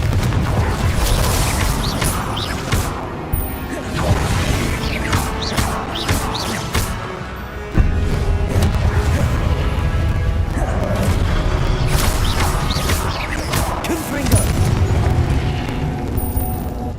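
Repeated Confringo fire-blast explosions in Hogwarts Legacy battle, loud booming crashes and eruptive bursts recurring across the stretch, with a heavy low-end thump midway amid busy game effects and music.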